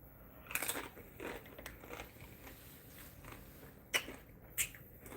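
A hard, crunchy tortilla chip topped with salsa is bitten and chewed close to the microphone, a few faint crisp crunches and sharp cracks scattered over quiet room tone.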